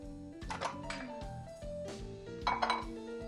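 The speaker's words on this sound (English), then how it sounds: "I've got a little glass dish here that I'm going to use for coating our chicken" Glass dish handled on a kitchen counter while preparing a coating for garlic-crusted chicken: several light clinks and knocks of glass against a hard surface, close and moderately quiet, with no talking.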